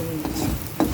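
A utensil scrapes and stirs chicken in a pan for kuay jap, with a low sizzle underneath and a sharper clatter near the end.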